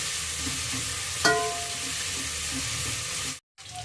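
Onions sautéing in a pan for brinjal and ridge gourd sambar, a continuous even sizzle with one sharp clink of a utensil partway and a brief cutoff near the end.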